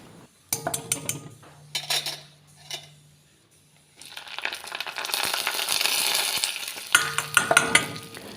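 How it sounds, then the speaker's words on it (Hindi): Spices and curry leaves crackle and sizzle in hot oil for a raita tempering, preceded by a few sharp clinks of a metal pan and spoon; the sizzling swells loud and continuous. "और इसका मैं तड़का लगा दूँगी।"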